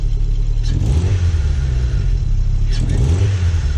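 Two quick revs from a Toyota MR2's 3S-GTE engine with an exhaust leak, a couple of seconds apart, each rising over a steady close idle rumble with a raspy, leaky exhaust edge.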